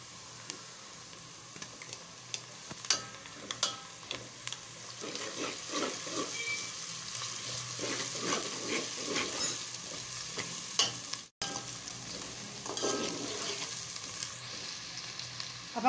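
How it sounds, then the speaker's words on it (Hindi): Onion, garlic and ginger fry in a pan for spicy bitter gourd, giving a soft continuous sizzle broken by scraping stirs and a few sharp knocks, all fairly quiet and without talk. "अब हम इसमें डालेंगे लहसुन अदरक।"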